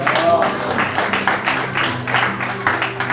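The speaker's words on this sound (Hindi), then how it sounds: "चार्वी के लिए एक बार जोरदार तालियां" Audience applause for Charvi at a book inauguration ceremony, heard as a burst of clapping from the crowd under and between a voice that keeps speaking.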